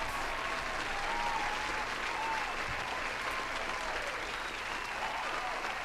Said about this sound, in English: I'll give you another round of applause.